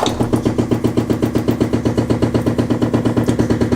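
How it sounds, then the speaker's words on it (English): A loud abnormal noise from a toilet after flushing, a rapid, steady mechanical rattling or hammering pulse repeating several times a second, close and continuous with no talk. "when you push it down and let go, the sink starts to make a really loud noise"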